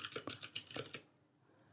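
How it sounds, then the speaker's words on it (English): Someone types on a computer keyboard, with a quick burst of about eight light key clicks followed by a pause and one final tap, close and faint in a quiet room. "What are you typing?"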